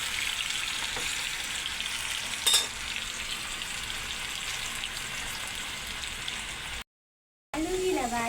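French fries frying in hot oil, a steady dense sizzle throughout with a brief clatter partway through and a short dropout near the end.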